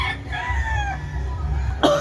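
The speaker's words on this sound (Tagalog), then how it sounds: "Manok dito sa may unahan." A rooster crows once near the start with a drawn-out, wavering call, and a brief sharper cluck or cough is heard near the end.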